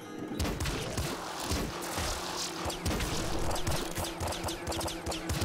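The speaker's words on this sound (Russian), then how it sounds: "Три выстрела со страшным лицом из тяжелого арбалета на собаку." Rapid, heavy impacts and thuds from heavy crossbow shots fired at a dog in the video game Nuclear Throne, a dense burst of percussive hits layered with game sound effects and continuing throughout.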